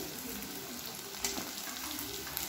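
Chopped onion frying in a hot pan for a chili baby corn dish, a steady close hiss and sizzle with a few crackles and stirring scrapes.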